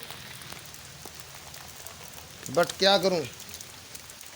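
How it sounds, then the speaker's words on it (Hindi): Steady rain falls on a road with passing cars and motorcycles, a continuous soft hiss throughout, briefly covered by a voice speaking near the middle. "बारिश हो रही है लगातार"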